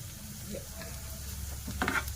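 Fenugreek powder and asafoetida are stirred in a hot pan: soft sizzling frying with a few quiet utensil scrapes, close and low in level over about two seconds.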